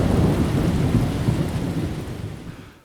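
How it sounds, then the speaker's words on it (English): Heavy summer rain in the New Forest pours steadily under deep rolling thunder, loud at first and slowly fading toward the end, with no voices. "the skies darkened and we had the first heavy rain for several weeks"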